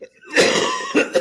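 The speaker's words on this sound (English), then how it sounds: "I just coughed in your ear" A man coughs close to the microphone, with one long rough cough followed by two shorter bursts.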